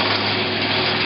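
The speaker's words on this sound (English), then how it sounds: "here's an example of where the drill is deflecting off to the side a little bit" A drill bores into a metal part, its bit deflecting slightly to the side, giving a steady, loud, continuous high whine with a faint low hum, close and alone for the whole moment.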